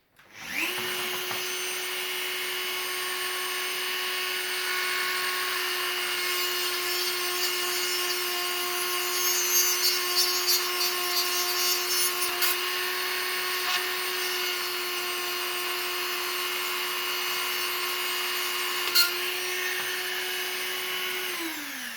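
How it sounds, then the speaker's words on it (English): A hand file tapers a small metal lock pin, likely spinning in a powered tool, giving a steady whining hum with a grainy rasp over it. It runs close and constant for about twenty seconds, with no talking. "I'm just going to angle this file just slightly over like that."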